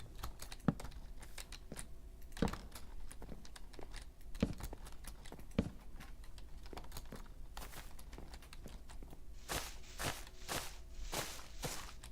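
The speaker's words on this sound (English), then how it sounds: "I'm also getting paranoid about my own footsteps." Footsteps in the Minecraft video game, a steady run of soft crunchy steps with sharper clicks through a cluttered in-game soundscape, growing denser and louder near the end.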